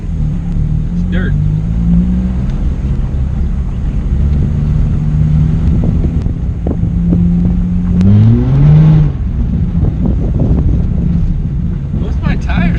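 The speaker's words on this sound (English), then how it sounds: "Both my tires are spinning." A car with a wrong air-fuel mixture revs hard as its tires spin on a dirt parking area during a burnout. The engine drones steadily, then surges in pitch mid-way, with wind buffeting the microphone throughout.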